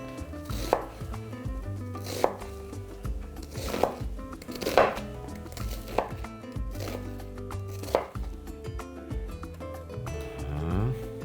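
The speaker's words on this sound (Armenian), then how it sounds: "կտրատենք, որպեսզի հեշտ կարողանանք հարել" Knife chopping an onion on a wooden cutting board, a series of sharp, distinct thuds spaced about every second or so, close and clear over a faint musical background.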